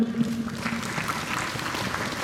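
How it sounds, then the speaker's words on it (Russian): Brief burst of audience clapping at a high jump competition, a dense patter of many hands held steady for a couple of seconds with no talking over it. "Аплодисменты для Алены."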